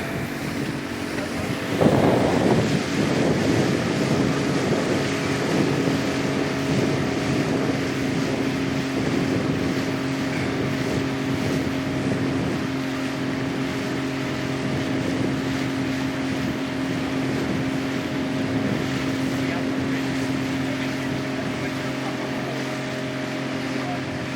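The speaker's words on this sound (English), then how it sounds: "So the engine wouldn't scream its head off" A powerboat engine runs steadily at sea during RYA Level 2 training, a constant droning hum with wind buffeting the microphone and a brief thump near the start.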